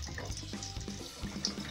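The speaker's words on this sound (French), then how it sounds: "Tu fermes l'eau là d'abord." Water runs steadily from a kitchen tap in a home, a continuous splashing hiss that fills the short stretch with no talking.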